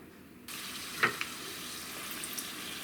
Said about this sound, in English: The oil is hot. It's ready for fry the tacos.